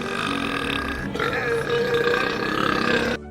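A record-setting, extremely loud human burp, measured at 109.9 decibels, rolls out as one long, rough, sustained belch lasting about three seconds before cutting off abruptly.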